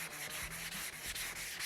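Hand block sanding across a Camaro body panel, a quiet rhythmic rasp of strokes repeating roughly every quarter second, faint and close with no talk.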